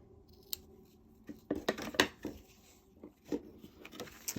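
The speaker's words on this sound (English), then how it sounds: "Trim up my ribbon." Scissors snip through ribbon for a handmade card, making a quick series of close, crisp cuts and light rustles with no talking.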